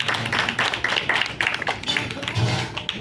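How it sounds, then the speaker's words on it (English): Clapping from an audience watching a live glassblowing demonstration at the Corning Glass Museum, a scattered patter of hands with sharp taps mixed in, moderately close, with some voices and background noise underneath. "Let's give her a big round of applause."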